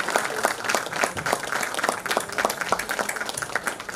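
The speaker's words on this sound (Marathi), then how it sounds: "जोरदार टाळ्या होऊ द्या या प्रसंगी" Audience applause at a retirement ceremony, a steady burst of many hands clapping that fills the room for several seconds, dense and even with no voices standing out.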